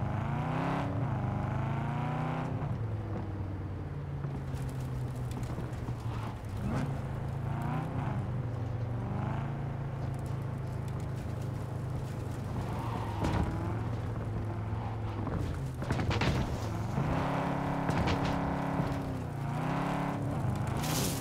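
A car driven in Cyberpunk 2077, its engine droning steadily and shifting pitch as it accelerates, revs and eases off, loud and close with no talking.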